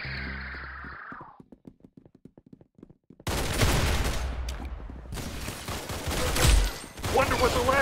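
Gunfire in the Roblox game Arsenal: a brief tone and a few sparse clicks, then a loud burst of rapid shots with dense crackling that continues to the end.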